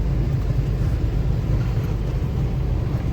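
An overweight loaded truck rolls past on a road in Chhattisgarh, giving a loud, steady low rumble of engine and tyres that stays constant without a clear rise or fall.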